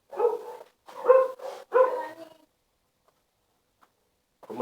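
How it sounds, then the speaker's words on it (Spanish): Dogs barking a few times in quick bursts at moderate distance, then silence, set in a home during a math lesson on rational numbers. "después que ladraban los perros"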